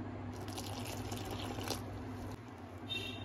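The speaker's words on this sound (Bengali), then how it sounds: "এখন জল দিয়ে দেব।" Water pours from a faucet into a bowl of flour and oil as dough is mixed, a steady soft trickle with dripping throughout, fairly quiet and close, with no talking.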